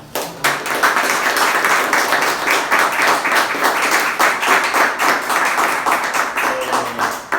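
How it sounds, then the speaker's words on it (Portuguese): Audience applause fills a lecture hall at the close of a talk on natural law, a dense, steady wash of many hands clapping that starts abruptly and holds loud and even for several seconds. "Uma salva de palmas"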